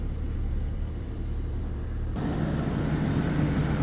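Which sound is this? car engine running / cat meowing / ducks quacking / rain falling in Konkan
car engine running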